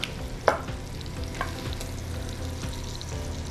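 Scallops searing in a hot pan make a steady moderate sizzle with a few sharper pops and spatters near the start, with no talking.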